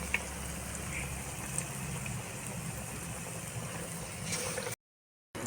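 Duck egg chops frying in hot oil, a constant fine hiss that cuts to silence near the end, faint and without talk.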